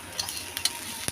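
Bitter gourd leaves fry in a pan with a soft, steady sizzle, broken by a few sharp scraping clicks as a spatula stirs and turns the food, fairly quiet overall.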